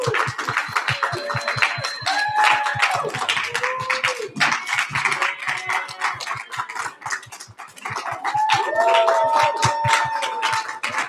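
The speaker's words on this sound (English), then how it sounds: "can we get all our TED Talk speakers come up here for one massive round of applause?" Audience clapping at a professional presentations event as speakers are called up, steady rhythmic claps close by, with voices and shouting mixed in throughout.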